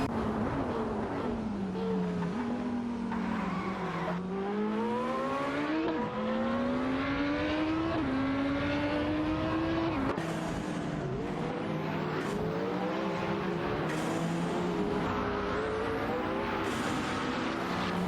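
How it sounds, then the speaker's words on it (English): Race cars in a racing video game, an Audi and a Citroën GT among them, with continuous engine whine rising and shifting through gears, loud and steady over the whole stretch. "Darth Blazer and Haruto 5 in an Audi Rate Spider GT are competing with Gary No Name in a Citroën GT for 11th place"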